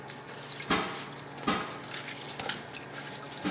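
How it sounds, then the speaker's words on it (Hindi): Poha (pressed rice) rinsed in a strainer under a running kitchen tap: a soft, low-level stream of water with a few sharper splashes and gushes as the flakes are moved, no talking. "आप इसको एक छाननी में ले लें और टैप वाटर से इसको धो लें।"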